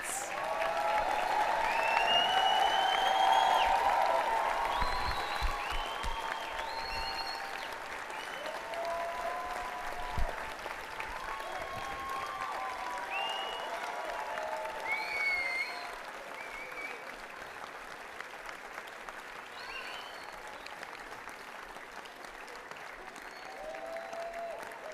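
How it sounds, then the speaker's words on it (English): Sustained round of applause for graduates at a Salford Business School graduation ceremony, a large hall crowd clapping steadily, loudest at first then easing slightly, while people's voices carry faintly over it. "could I ask you to join me in a round of applause?"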